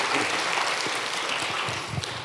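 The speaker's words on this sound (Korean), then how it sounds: "우리 하나님께 한번 감사와 영광의 박수 한번 하겠습니다." A church congregation breaks into applause, a dense, steady wash of many hands clapping from mid-distance, with faint voices mixed in and no clear speech on top.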